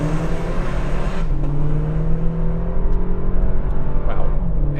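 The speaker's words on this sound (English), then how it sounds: "let's see if all 4 wheels powered cuts down our 0 to 60." A 2025 Toyota 4Runner TRD Pro accelerating hard from a standstill to 60 mph in four-high, its engine droning steadily and loud from inside the cabin, with a gear shift partway through and no talking.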